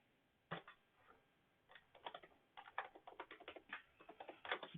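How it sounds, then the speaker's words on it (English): Rapid clicking keystrokes on a computer keyboard, close and fairly quiet, coming in uneven bursts of quick taps with short pauses between them, no talking. "my typing is atrocious today"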